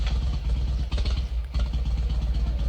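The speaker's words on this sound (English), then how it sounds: "a little motorcycle sound." A motorcycle engine effect in a song, a steady mid-loud idling rumble with a brief dip partway through, no voices.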